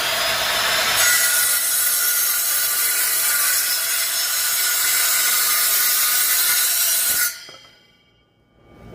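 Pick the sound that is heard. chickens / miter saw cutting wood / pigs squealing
miter saw cutting wood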